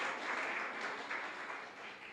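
Church congregation applauding during a sermon, a dense wash of many hands clapping at once, steady and somewhat distant, with no talking over it.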